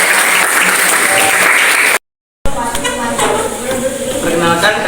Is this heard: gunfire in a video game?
no